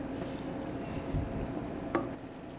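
Sauce gently simmering in a pan, a soft, steady low bubbling and faint sizzle with an occasional light clink, fairly quiet and with no talking.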